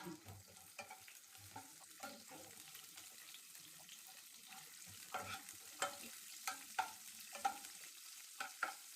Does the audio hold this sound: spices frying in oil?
yes